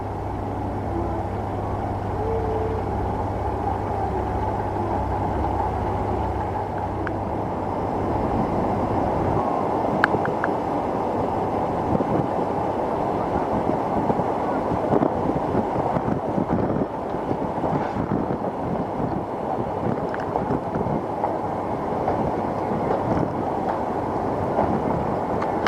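Ferry steaming away from the Isle of Man toward Liverpool, a steady broad engine and water rumble with wind buffeting the microphone, continuous and loud throughout.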